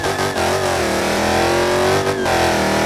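A Dodge Challenger Demon engine revs hard during a burnout in BeamNG, a loud, sustained roaring drone with brief dips and surges, close and continuous.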